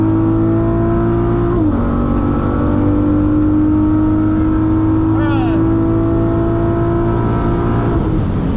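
Nissan GT-R engine holding a loud, steady drone under throttle, with a sustained low tone and a brief pitch shift midway as the driver presses the gas; continuous near in-cabin roar throughout.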